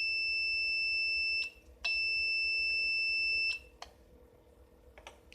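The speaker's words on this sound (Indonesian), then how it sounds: "MPS ini dilengkapi buzzer." Buzzer on a multi power supply sounding during a short circuit: a steady, high electronic tone that runs for about a second and a half, stops briefly, then sounds for another two seconds before cutting off, in a quiet room.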